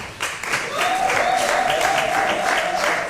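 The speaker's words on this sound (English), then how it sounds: "I think they deserve a very big round of applause." Sustained applause from an audience at an awards ceremony for young African leaders fills the space, steady and fairly loud, with a faint tonal hum running underneath.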